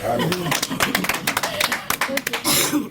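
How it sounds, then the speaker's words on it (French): Audience clapping at a Christian gathering, a dense run of sharp hand claps that carries through the clip and swells toward the end, with voices mixed in beneath. "Est-ce que vous ne pouvez pas applaudir?"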